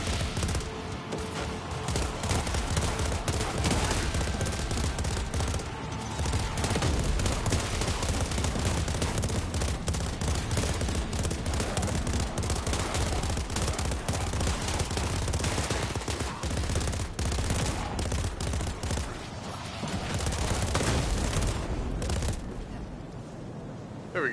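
Rapid SMG gunfire in the shooter game Painkiller, dense bursts of shots running almost continuously and loudly, with a short lull near the end.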